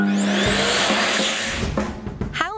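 An electric hand dryer blows with a loud, steady broadband rush. A brief low hum drops out early, and the airflow wavers and fades near the end.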